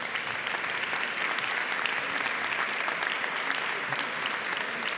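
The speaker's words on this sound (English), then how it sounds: "let's give one more round of applause for this great panel" Conference attendees at the Helsinki+50 event applaud a panel, a broad steady wash of many hands clapping at an even level throughout.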